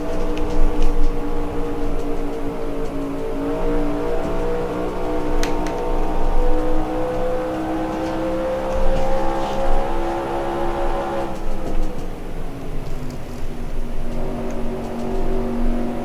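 Stock car engines roar steadily in NASCAR Racing 2003 during the 1971 Pennsylvania 500 at Pocono, a loud sustained drone with rising and falling pitch as the car accelerates, then a drop in pitch near the end.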